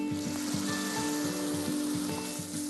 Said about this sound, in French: Pour commencer, on va saisir la viande.